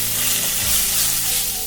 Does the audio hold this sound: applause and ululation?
no